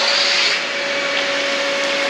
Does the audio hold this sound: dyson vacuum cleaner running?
yes